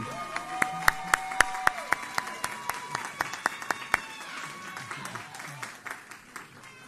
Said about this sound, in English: Once again, give them another round of applause.